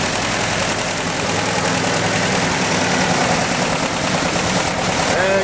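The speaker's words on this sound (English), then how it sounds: "I'm gonna push this choke in a little bit. Doesn't need choke to stay running, really, just to start it." A small car engine idles steadily after the choke is pushed partly in, a continuous close, even running hum with no breaks.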